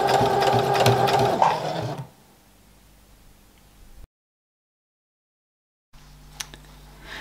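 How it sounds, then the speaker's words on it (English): A sewing machine stitches the final edge of a fabric apron, running loud and steady for about two seconds before stopping, followed by quiet room tone and faint handling sounds. "I'm going to be sewing that final edge of the apron all the way up until I get to that armhole"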